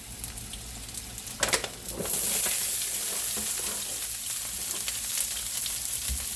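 Italian sausage and vegetables, including onion, sizzle and fry in a pan, a steady crackling hiss close by. A few louder spits and stirring sounds come early.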